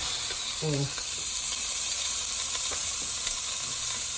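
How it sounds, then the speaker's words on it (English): Ground round beef cooks in a pot with oil, giving a steady close sizzle and hiss with faint scraping and stirring sounds throughout. "So first thing we're gonna do is cook the ground round."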